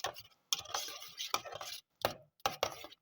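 A knife chops mango into small pieces on a board, a quick series of sharp, close taps in uneven bursts separated by short pauses.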